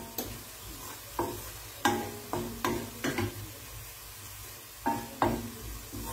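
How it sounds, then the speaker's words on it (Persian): Turmeric sautéed in a pan over residual heat after the flame is switched off, heard as a series of distinct spoon scrapes and taps against the pan over a faint background sizzle. "زیر گازم خاموش با همین حرارتی که هست زردچوبه ها کمی تفت میده"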